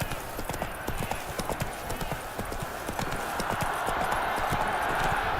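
The horse Roach galloping in The Witcher 3, rapid rhythmic hoofbeats clattering up close, steady and continuous with a rising wind-like rush behind them.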